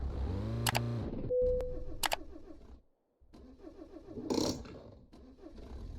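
A car in a driving game cranks repeatedly, the starter whirring and the engine failing to catch, with a brief silent gap, then more strained cranking and a rough rising engine surge toward the end.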